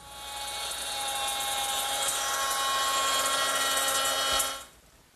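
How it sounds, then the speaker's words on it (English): A router fitted with a 1/4-inch slot cutter grooves the edges of wooden breadboard edge pieces, giving a steady, loud high-pitched whine that holds for about four seconds and then cuts off as the bit spins down. "I'm going to use my router with a 1/4-inch slot cutter"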